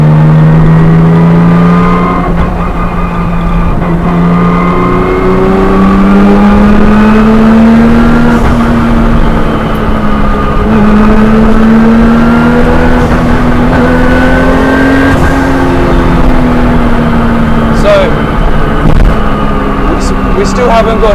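A Nissan Skyline R34 GT-R with a manual gearbox and an untuned map revs loudly while being driven, its engine note climbing and dropping through repeated pulls over about twenty seconds, close and strong, with occasional cabin noises.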